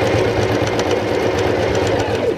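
Sewing machine stitching a short section of a jacket sleeve, a steady close mechanical whir with fast rhythmic needle ticking running continuously and fairly loud, no voices.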